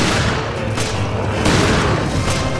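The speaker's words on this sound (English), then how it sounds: "I shoot him twice in the chest with the shotgun." Shotgun blasts in the video game Resident Evil Revelations: heavy booming shots ring out over a dense, continuous wash of loud game noise.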